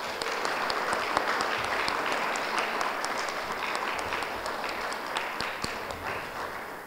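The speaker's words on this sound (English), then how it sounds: "I would appreciate a round of applause for Mrs. Connors, Mrs. Piasecki, and Mrs. Ricciarelli, please." Steady audience applause fills a ceremony hall, a dense patter of many hands clapping at moderate distance, sustained evenly throughout without speech.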